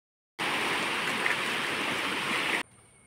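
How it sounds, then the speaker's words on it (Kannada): A river in flood rushes loudly as a dense, continuous roar of water that cuts in abruptly and then stops just as suddenly. "ಹೊಳೆಯಲ್ಲಿ ಭಯಂಕರ ನೀರು ಬಂದಿದೆ ಮಾರೆ"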